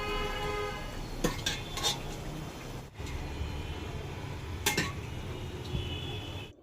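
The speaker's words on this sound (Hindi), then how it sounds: "तो अब इसमें मिक्स कर दूँगी मैं सारे छोले" Chickpeas being stirred into masala in a kadhai, with a spoon scraping and clinking against the metal pan in a few sharp strokes over a continuous cooking hiss, close up.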